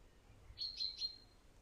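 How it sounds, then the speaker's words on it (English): Three quick, high chirps from a small bird come faintly from a distance over soft outdoor background noise. "Sound quality is superb. You can hear birds in the background."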